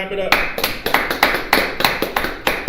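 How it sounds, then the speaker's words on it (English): Rhythmic group clapping at a street gathering, loud and close, with sharp claps in a steady beat after a brief voice at the start. "All right, clap it up."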